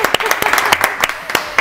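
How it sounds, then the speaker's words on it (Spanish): A studio audience claps in scattered, uneven bursts that rise and fade over a short stretch, with sharp individual claps standing out near the front and voices talking in the background. "¡Aplausos!"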